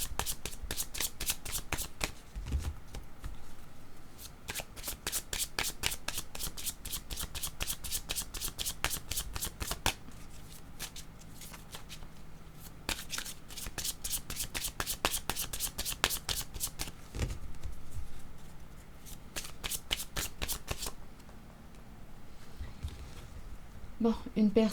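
A deck of cards shuffled for a card reading: crisp, rapid riffles in repeated bursts that fill the whole stretch, with soft pauses between shuffles.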